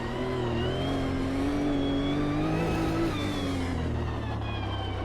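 In a racing simulator game, a Nissan GTR engine on the Long Beach circuit drones loudly and steadily, its pitch climbing and falling as the car accelerates and shifts, with no talking over it.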